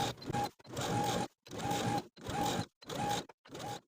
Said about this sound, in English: it will be difficult for your presser foot to get into that corner, so here is where you're going to be stitching just as far as you can